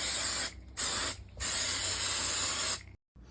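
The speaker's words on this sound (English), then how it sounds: "If you want the option of having the insert pop out after you've done the mold, use Ease Release 200." Ease Release 200 release agent sprays from an aerosol can onto a horse shoe in three close, loud hissing bursts separated by short pauses.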